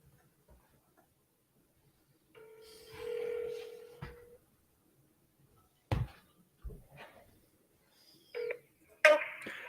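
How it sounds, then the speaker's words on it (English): An old phone dials a number with a steady tone followed by short beeps and clicks, close and fairly quiet, with gaps of silence between the sounds. "We're going to see if it dials."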